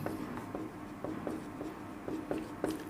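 Marker writing on a board during a chemistry lesson: a steady series of short squeaky strokes, roughly two per second, close and fairly faint with no speech over them.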